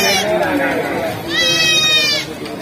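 A goat with two kids bleats loudly and close, first a wavering call and then a higher, strained bleat, while someone talks over the animals.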